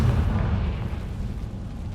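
A Confringo spell bursts in Hogwarts Legacy, a deep rumbling blast that fades slowly into a low, heavy roll.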